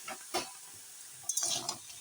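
Vegetables tip into a hot pan of reddish fried lentils and sizzle, with a few short bursts of frying hiss and stirring scrapes separated by quieter moments.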